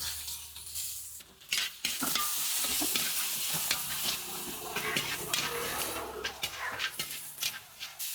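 Onions and curry leaves fry in groundnut oil for a Salem-style duck curry, giving a continuous close sizzle broken by scraping stirs and clinks of a pan.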